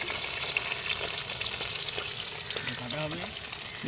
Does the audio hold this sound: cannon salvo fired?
no